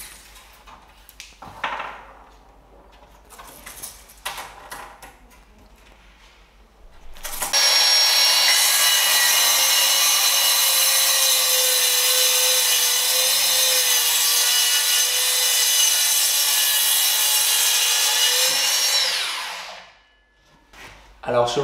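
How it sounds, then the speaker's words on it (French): A plunge saw cuts through a wooden worktop for a steel-and-wood coffee table. Faint handling noises come first, then a loud, steady high-pitched whine runs for about twelve seconds before winding down. "je vais tracer deux fois ma référence du mètre pour pouvoir le découper avec la scie plongeante"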